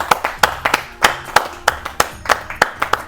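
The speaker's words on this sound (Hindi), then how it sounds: "जोरदार ताली बजाएं।" An audience at a Holi poetry gathering claps close and loud, with distinct individual hand claps in a quick, uneven rhythm.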